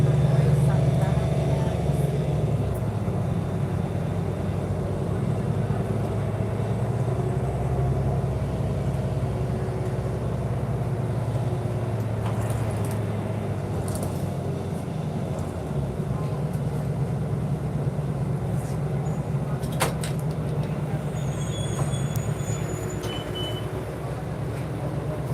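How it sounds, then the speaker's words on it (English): A diesel city bus engine drones loudly and steadily throughout, a low rumbling hum with occasional rattles and clunks from the moving bus near Kipling subway station, Etobicoke. "Wow, the diesel on this bus here is really loud."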